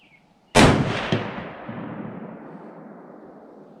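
A single loud shot from a Ruger American 30-06 rifle at an outdoor range, a sharp blast after brief quiet followed by a long rolling echo that fades slowly.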